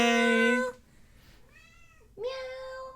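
A cat meows twice, a loud, drawn-out tonal call followed after a short pause by a second, rising meow, close and clear with little else around it.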